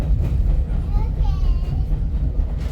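A Grand Canyon tourist train rumbles steadily with a constant low rail drone and faint clatter, while people murmur in the background of the carriage.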